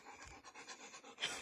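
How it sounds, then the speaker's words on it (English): A dog pants in quick, rhythmic breaths close by, faint and alone. "Really smart dog."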